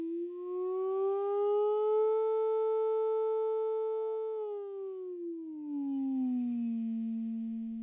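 A tone generator sounds a pure sine wave that glides up to a higher pitch and holds steady, then slides back down to a lower tone, continuous and clean with no talk.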